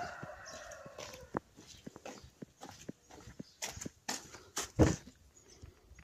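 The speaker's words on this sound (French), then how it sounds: "Donc ma poule naine, elle est de sortie." A bantam hen out in a farmyard with Toulouse geese nearby, giving soft, scattered clucks amid rustling and footsteps, with a few louder sharp knocks and one loud close call near the end.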